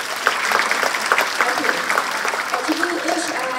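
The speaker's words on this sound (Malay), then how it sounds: "Tepuk tangan." Audience applause at a university student event, clapping heard under overlapping voices and crowd murmur that continue throughout.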